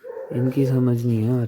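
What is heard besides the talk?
dogs barking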